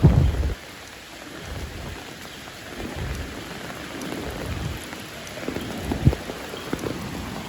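Heavy monsoon rain pours steadily during a flood in the Konkan, a dense continuous hiss with a few louder thumps and a brief low rumble at the start.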